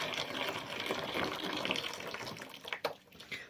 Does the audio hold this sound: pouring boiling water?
yes